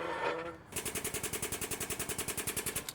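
A pneumatic jack lifting a trailer, running slow: a rapid rattle hammers in a steady fast rhythm after a brief hiss, repeating evenly throughout at a quiet level.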